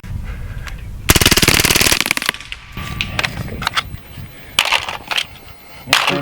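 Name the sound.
full-auto Hatsan Blitz .30 caliber air rifle firing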